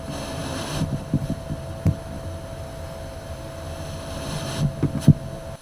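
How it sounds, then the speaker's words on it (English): Barkhausen noise from magnetized steel rebar played through a speaker as a magnet is brought near: a low hum bed with irregular crackling bursts clustered at the start and end, loud and close, no talk. "what you're hearing is actually millions of magnetic domains flipping when I bring a magnet near the iron"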